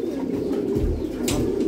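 Domestic pigeons coo in low, soft, throaty murmurs close by, continuous and unhurried, with a brief rustle partway through.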